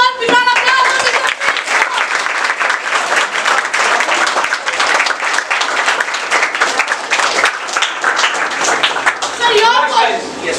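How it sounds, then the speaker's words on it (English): An audience at a talent hunt event claps loudly and continuously, a thick sustained burst of applause with voices mixed in and some cheering near the end. "big round of applause"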